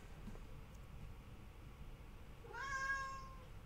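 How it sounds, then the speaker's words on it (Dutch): A single clear cat meow rises briefly near the end over a quiet, low background rumble. "De poes."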